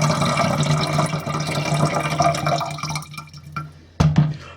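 Water splashes and trickles into the tank of a Trotec B6E ultrasonic humidifier, a busy gurgling pour that tapers off, followed by a short sharp splash near the end.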